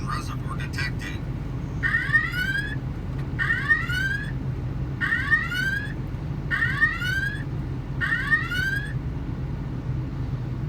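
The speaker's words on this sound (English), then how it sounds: "two very robust readings here that tripped the alarm" A hydrocarbon detector alarm sounds in five evenly spaced bursts of rising, warbling electronic tones, loud and close over a steady low hum.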